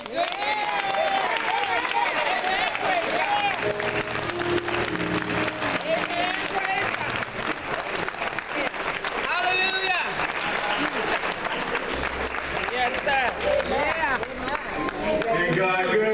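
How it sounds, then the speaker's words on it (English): A church congregation applauds and claps, a dense sustained wash of hands with voices and music-like tones mixed in throughout. "Give him another hand clap of praise."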